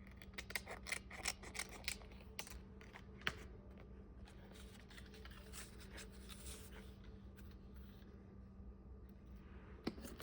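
Scissors trimming paper at a crafting table, a quick run of snipping cuts at first that thins to occasional cuts over quiet room noise, close and fairly soft.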